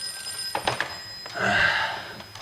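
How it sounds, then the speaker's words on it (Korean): A telephone rings in a film scene, giving a couple of short bright trilling bursts and then a longer sustained ring, close and clear, with no talking. "그리고 며칠 후 일자리를 찾는 토니에게 전화가 걸려옵니다."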